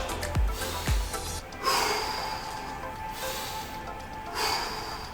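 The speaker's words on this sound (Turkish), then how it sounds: "İnerken nefes alın, kalkarken nefes verin." A person doing bodyweight squats breathes hard, with two sharp, close snorting exhales near the start, then steadier breathing over a background hiss, with another breath surge near the end.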